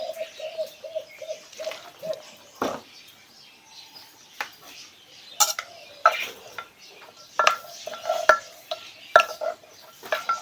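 Wet stirring and scraping as steamed red tilapia is tossed with mushroom jaew sauce and a splash of fish sauce, soft irregular mixing strokes close by, with pigeons cooing in the background.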